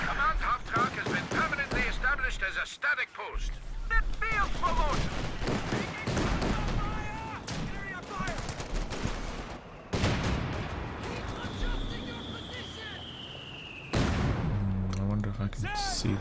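Artillery barrages and gunfire in the Company of Heroes 2 strategy game, repeated booming blasts and crackling shots layered densely with a voice talking over the battle throughout.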